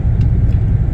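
A bus engine rumbling low and steady as it drives toward Ocean World in Puerto Plata, a loud, close, unbroken drone with no talking.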